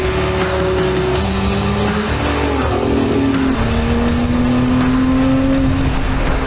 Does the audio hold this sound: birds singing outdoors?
no